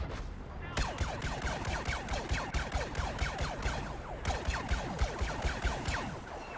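Repeated heavy blasts from a blast cannon in the Star Wars Battlefront beta, Walker Assault mode, firing in a steady rhythm of sharp booming shots, loud and close, with a player talking over them.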